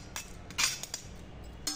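A spoon clinks and scrapes against a bowl while mixing fried spices, garlic, curry leaves and peanuts, a few sharp light metallic taps close by with quiet gaps between.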